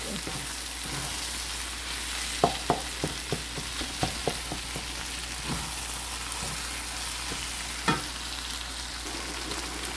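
Tokwa (tofu) fries in a pan with a steady, even sizzle running throughout, broken by a series of sharp clicks and light taps that cluster near the middle and recur once later, with no one talking.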